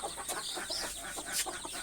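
Native chickens cluck and chatter nearby inside a poultry shed, a few short calls overlapping in a brief burst with hissy background noise.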